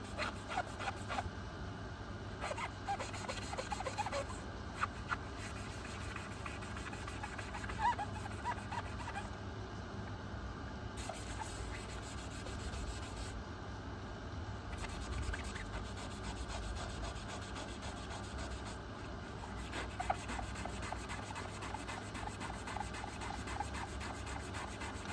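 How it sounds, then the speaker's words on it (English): Continuous hand sanding of a bus window frame, a steady scratchy rubbing with rhythmic strokes throughout, fairly close and even, with no talking. "Got this all sanded nice."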